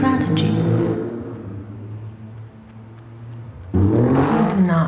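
The 505 hp bi-turbo engine of an Alfa Romeo Stelvio at the Los Angeles Auto Show revs loudly, drops back to a low idling rumble, then surges into a sudden hard rev near the end.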